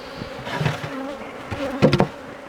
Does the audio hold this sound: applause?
no